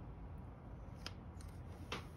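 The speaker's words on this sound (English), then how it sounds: "I can either use these scissors here." Two or three quiet, crisp snips of scissors closing, spaced apart over low background hum.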